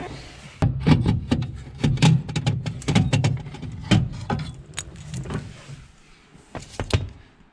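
Metal clicks, taps and rattles come from removing the brake pedal and its set pin under the dash of a 1967 Ford Mustang, as irregular close knocks and jangles with short pauses.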